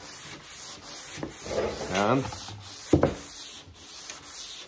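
Filler surfacer marked with a guide coat being finish sanded by hand, a steady close scratchy rubbing with short repeated strokes and brief pauses, with a voice speaking over part of it.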